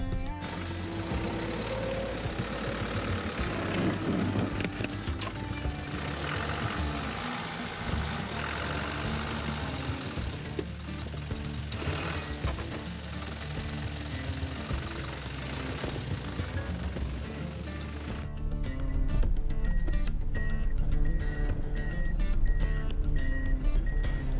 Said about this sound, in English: As I drive the truck back down the mountain